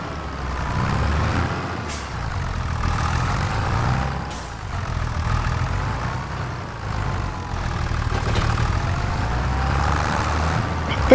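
Tractor engine running in Farming Simulator 25, a steady heavy diesel rumble with a low idling drone that holds at a constant loud level throughout, with no speech over it.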